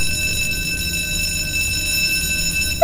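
A school alarm in a video game rings continuously as a loud, steady electronic tone that holds for nearly three seconds.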